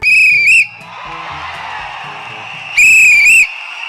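A shrill whistle blows loudly twice, once briefly at the start and again later for about a second, with a wavering pitch, while a voice talks and crowd-like noise fills the gap between blasts.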